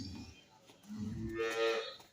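A Holstein Friesian dairy cow on a farm in Dinajpur, Bangladesh, lets out a loud, drawn-out moo that swells toward the end. Quieter farmyard noise sits underneath, and no one speaks.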